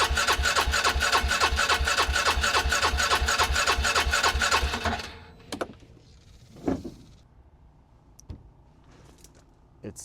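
A Polaris Ranger 500 EFI engine cranks with a fast, loud rhythmic chugging for about five seconds, then stops, followed by a few scattered clanks and a sharp pop in a quiet workshop.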